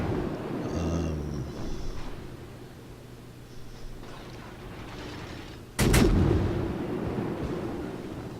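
Naval gunfire in the World of Warships video game: a low rumbling battle bed, then a sudden loud booming salvo near the end that lingers as a heavy roar.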